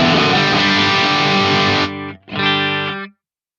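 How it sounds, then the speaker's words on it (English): Electric guitar played through an overdrive distortion pedal into a clean amp, a thick sustained distorted chord ringing loud, then a brief cut and a second shorter chord that stops abruptly into silence. "I've got a great overdrive, a great distortion box in front of my clean amp"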